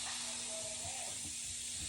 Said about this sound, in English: when the steam is releasing